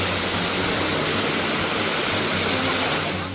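Rushing water at Padghe waterfall roars as a loud, steady broadband wash, close and unbroken for the whole stretch.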